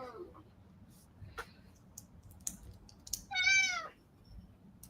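A cat gives one short, clear meow in a quiet room, with faint scattered clicks and soft background noise around it.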